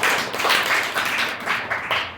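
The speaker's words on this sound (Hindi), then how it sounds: "माँ जी के लिए जोर से ताली बजाओ।" Congregation at a prayer and fasting service clapping loudly and rhythmically in the hall, a run of quick, even claps that fills the room.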